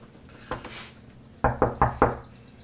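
Knocking on a door: one soft knock followed by a quick series of four firm raps, close and clear against a quiet room with no talking.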